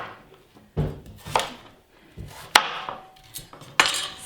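Skin being trimmed off a Hubbard pumpkin and the flesh cut, with a handful of sharp knife chops and hard thuds against a board spaced about a second apart, close and with no talking.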